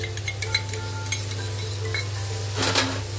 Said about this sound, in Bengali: দিয়ে একদম ভালোভাবে নাড়াচাড়া করে রাখতে হবে এভাবে করে, দইটা যাতে ফেটে না যায়